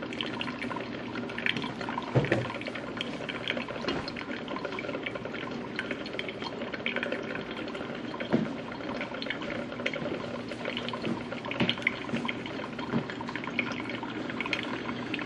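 Hot water streams and trickles into the filter basket of a Mr. Coffee 12-cup coffee maker, a continuous close splashing pour with faint gurgles and no talk.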